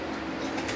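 Domestic pigeons, including a crested house pigeon, cooing on a rooftop loft, a soft low murmur heard briefly and fairly close with no talking.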